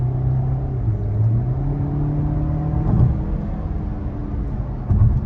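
A Volkswagen Tiguan SEL R-Line, a 2026 model, drives and accelerates, its engine giving a steady low rumble and whir with a slight surge in revs, heard from inside the cabin without any talking.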